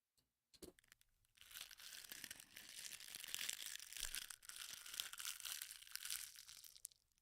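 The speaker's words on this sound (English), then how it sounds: "crinkling papers" Paper crinkling during a mystery game session: a brief tap, then several seconds of steady, close crinkling and crunching like a candy wrapper, with no talk over it.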